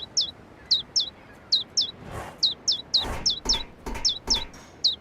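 Young birds in the video game A New Beginning give a run of high, rapid chirps in short repeated bursts, close and clear over a quiet background, with a few soft thumps between them.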